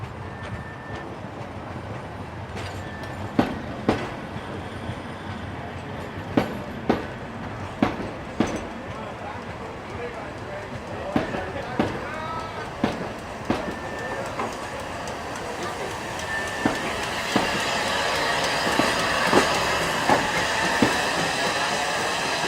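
A newly restored Rhaetian Railway steam locomotive, number 4, rolls on rails at a steam festival, wheels clicking in steady, evenly spaced knocks over a continuous low rumble that swells toward the end.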